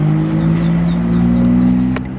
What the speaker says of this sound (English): there's a McLaren right here.